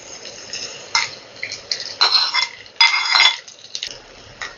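Cooked rice is stirred and mixed in a pan for fried rice, giving a series of uneven scraping and clinking bursts of utensil against metal, fairly close and moderately loud.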